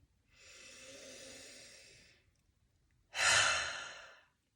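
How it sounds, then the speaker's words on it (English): A person breathes in slowly and deeply through the nose for about two seconds, pauses, then releases a louder, airy exhale, close and alone. "let's take a deep breath."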